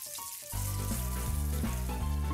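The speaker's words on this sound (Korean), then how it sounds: "팬 위에서 지글지글 구워지는 소리가 비 오는 소리와 같아서" A seafood pancake sizzles steadily in a pan with a dense, bright crackle, like frying batter, over a low tonal hum, after a brief quieter moment at the start.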